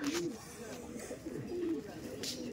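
Red Madrasi pigeons in a loft give soft, low coos, faint and intermittent, with a voice talking over them.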